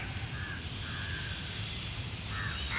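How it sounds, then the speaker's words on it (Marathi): Crows caw repeatedly near a spot where food scraps have been put out for street dogs, the harsh calls sitting over a steady low outdoor rumble. "सगळं वेस्ट वेस्ट नाही जात. आमचे कावळे खातात."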